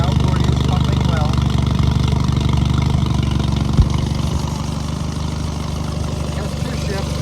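A Johnson Evinrude 9.9–15 hp four-stroke outboard, 1999–2001, runs at a steady idle with an even low rumble close by. It does not let up across the whole stretch, and someone talks over it.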